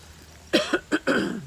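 A few sharp coughs close by, three quick bursts followed by a longer rough one, with a quiet background.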